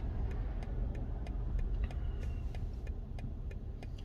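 A 2022 BMW i4 M50 electric car driving, heard from inside as a steady low rumble of road noise with a faint, regular ticking of clicks running through it.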